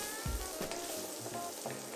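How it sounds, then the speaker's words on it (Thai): Garlic fries in a pan with a soft, steady sizzle and a few stirring clatters, quiet and close. "แล้วเราก็จะใส่กระเทียมลงไปจ้ะ"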